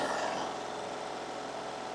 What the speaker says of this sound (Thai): เครื่องเดินนิ่งครับสวยมากคันนี้นะครับเครื่องเดินนิ่งเลย